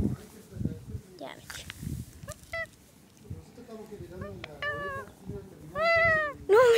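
A person imitates a cat's meow to call a cat, and a cat answers. Several rising and falling meows grow louder toward the end, mixed with soft rustling and footsteps nearby.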